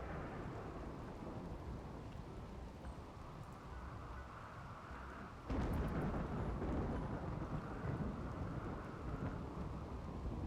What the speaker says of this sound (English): There's a lot of lightning fires around here. The storm is doing good work.